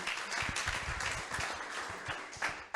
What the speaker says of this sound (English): Let's clap, celebrate people.